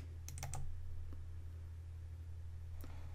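Mouse clicks on a copy button during computer work, heard as a small cluster of soft clicks near the start and one more later, faint and close over a steady low hum, with no talking.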